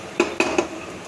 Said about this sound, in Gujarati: હવે આપણે એમાં નાખી દઈશું જીરું આમ સારી રીતે મિક્સ કરી લેશું